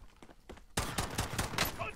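Gunfire in a Call of Duty: Warzone match, quiet distant pops at first, then a loud burst of rapid shots that keeps crackling as fire is traded at close range.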